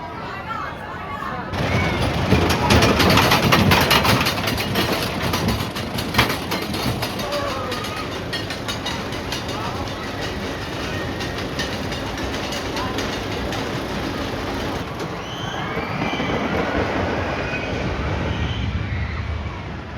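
Jackrabbit roller coaster at Darien Lake amusement park: loud, rough rumbling and clattering of the cars on the track, with wind buffeting and shouting riders, the roar easing briefly before building again.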